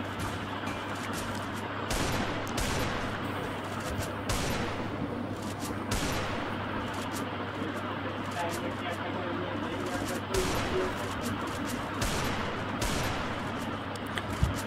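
Desert Eagle shots and other gunfire in the mobile battle game Free Fire, repeated sharp cracks and bursts scattered through the clip, mixed with game sounds and heard under a person talking.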